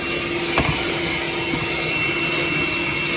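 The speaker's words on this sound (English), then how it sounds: "Once again, I'm bringing the old Milwaukee little handheld hoover." A small Milwaukee handheld vacuum runs nearby with a loud, steady whine and airy roar. A sharp knock breaks in briefly partway through. No one speaks.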